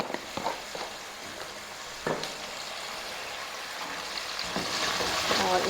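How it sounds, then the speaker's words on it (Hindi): Meat sizzles steadily in a pan with ginger and garlic during Tauri Gosht cooking, with occasional stirring clatters and the frying growing louder toward the end. "इसको फ्राई करके फिर गोश्त हमारा अच्छा सा फ्राई हो गया, इसमें डाल देंगे अदरक लहसुन।"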